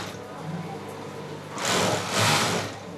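A sewing machine runs with a steady mechanical whir that swells into two louder surges near the end, with no voices over it.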